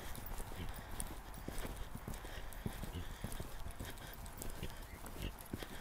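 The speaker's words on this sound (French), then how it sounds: "tu as un très bon galop" Horse galloping in a riding lesson, rhythmic hoofbeats thudding repeatedly at a steady pace, moderately close with some faint background sounds.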